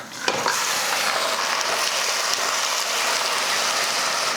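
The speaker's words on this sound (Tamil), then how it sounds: "வெங்காயம் பாருங்கள் நல்லா பொன்னீரமாக வதங்கிருச்சு இந்த டைமில் மட்டன் சேர்த்துக்கலாம்" Mutton pieces frying with golden sautéed onions in a pan, a loud dense sizzle that hisses steadily throughout, with a sharp clatter near the start and no voices.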